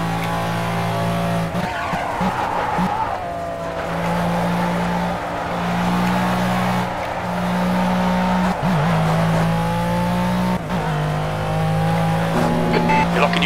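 GT1 Long Tail race car at Monza in Project CARS, a steady loud engine drone with gear-change pitch steps and brief tire squeals under braking, continuous throughout with a spotter voice talking over it.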